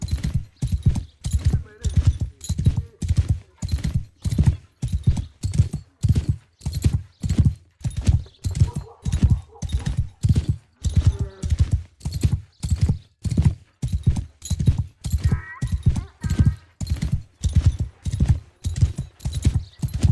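Horse hooves clip-clop at a steady trot while riding through a village in Mount & Blade 2 Bannerlord, loud and evenly rhythmic, with faint game ambience and occasional voices in the background.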